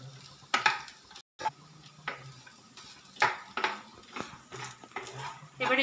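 Crushed spices and dried chilli powder are stirred into a potato filling for singara, with repeated scraping and clattering strokes of a spatula against the pan over a faint sizzle.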